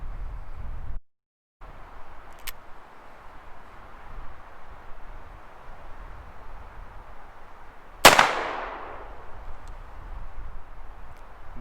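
A single sharp gunshot from a Cimarron Remington New Model Army cartridge conversion revolver cracks loudly and close, trailing into a brief decaying echo against quiet outdoor background hiss.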